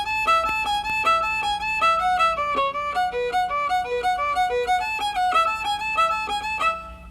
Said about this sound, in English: Now if I play that opposite so that the up bows land on the beat, it'll have kind of an off-kilter kind of sound.